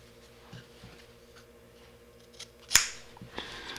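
Scissors snip off strands of Samson Vortex double-braid rope during a splice, one sharp close cut standing out amid a few softer clicks and handling noises, no talking.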